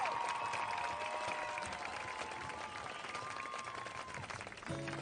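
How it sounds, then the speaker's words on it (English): A crowd applauds the Sallisaw Black Diamond Marching Band at a 2019 high school football game, a steady, sustained wash of clapping lasting throughout, with faint tonal band sounds mixed in and a brief low thump near the end. "one big round of applause for the Sallisaw Black Diamond Marching Band"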